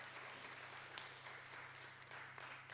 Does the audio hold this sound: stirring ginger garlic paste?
no